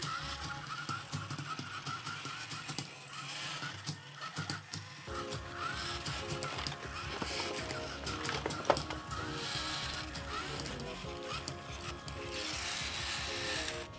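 An Arduino 101 CurieBot robot kit drives along on DC motors, giving a faint, continuous mechanical whir with small gear-like clicks and rattles throughout.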